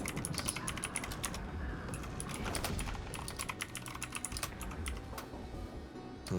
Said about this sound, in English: How much can you hear of my typing